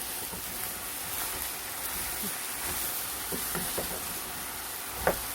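Meat stir-fries in a dry pan with no oil, giving a steady sizzling hiss with soft scraping and stirring clicks throughout, moderately close and without talk.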